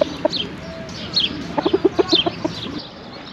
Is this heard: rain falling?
no